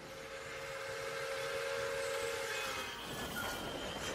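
A train pulls out of a small, remote countryside station, a steady rolling rumble of wagons with a sustained whistle-like tone above it, fairly close and loud, with no voices.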